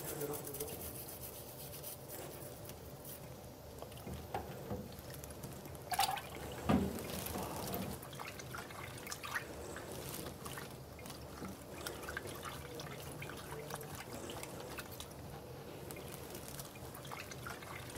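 Endoscope pistons and a cleaning brush are rinsed in a water bath during manual reprocessing, giving steady close dripping and trickling water with small splashes and clinks throughout.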